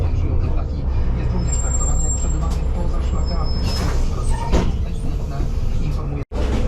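A bus driving through a city at night gives a loud, steady engine rumble and road roar from inside the cabin, with faint rattles, a brief hiss near the end and people talking over it.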